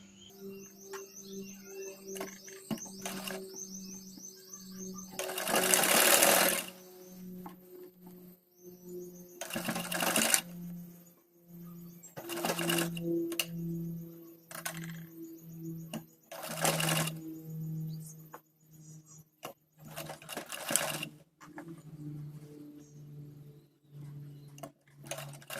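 A sewing machine stitches a kurti strip in short, separate bursts with pauses between them, close and fairly quiet, while faint bird chirps and small ticks sound in the background.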